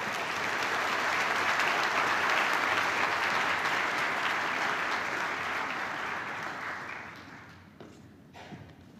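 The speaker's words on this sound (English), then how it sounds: "Please join me in a warm round of applause to thank Dr. Page" An audience at a medical school white coat ceremony applauds steadily for several seconds, a dense wash of clapping that gradually thins out and fades toward the end.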